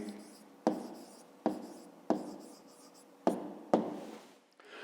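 Pen writing on paper during a fifth-grade math exercise, a series of five distinct close taps and strokes, each followed by a short scratching trail, in an even rhythm with no talking.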